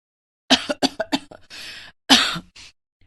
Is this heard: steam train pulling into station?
no